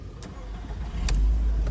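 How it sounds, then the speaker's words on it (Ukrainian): Used car's engine starting readily and settling into a steady idle, with a low, even rumble that grows slightly louder, close by and with no talk. "Заводиться взагалі з півоберту. Обороти не плавають."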